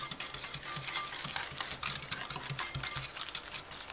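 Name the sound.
whisking egg yolks and sugar together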